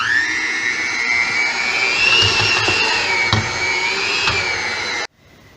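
An electric hand mixer beats thick multigrain bun dough in a mixing bowl, a steady loud whirring drone running for about five seconds before cutting off abruptly.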